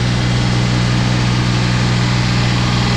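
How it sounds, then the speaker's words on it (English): A small diesel engine on a self-contained wheat seed cleaning trailer runs at a steady, loud drone with a constant low hum and no talk. "There's a small diesel engine here, another one on the front trailer."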